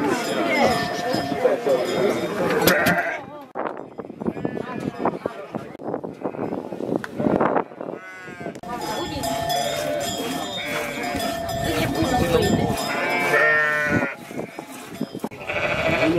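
Many sheep bleat, some near and loud and others farther off, at a mountain sheepfold during the measuring of milk yield, with cowbell-like clinks and frequent Romanian talk mixed in.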